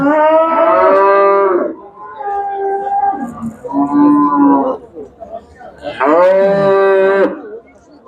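A cow bellows at a livestock market in Shahrisabz, giving three or four long, loud, close moos in succession separated by brief pauses, with faint background murmur.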